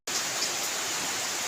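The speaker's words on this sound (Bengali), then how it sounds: "বাইরে আমাদের বৃষ্টি হচ্ছে" Steady rain falls outside on a rainy day, a dense, even hiss that runs unbroken and fairly loud from start to finish with no voices over it.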